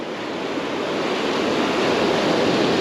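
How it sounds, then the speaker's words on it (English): Ocean surf crashing on a beach at South Ponte Vedra where people fish from shore, a steady loud broadband roar of breaking waves and wash with a little wind, continuous and close. "the waves crashing."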